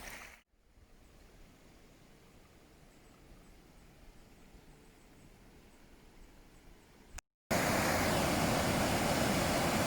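Rushing water of a mountain torrent beside a forest trail near Chamonix, a steady broadband roar that cuts out briefly twice and returns much louder and closer in the last two seconds.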